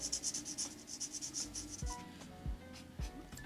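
A bullet-tip Arteza Everblend alcohol marker coloring on paper, with close, soft, rhythmic back-and-forth rubbing strokes followed by a few light taps and slower single strokes.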